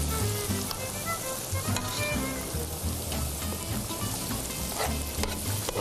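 Spice paste for a fish curry sizzles and fries in a pan, a steady, close, continuous crackle with faint stirring scrapes and no voices.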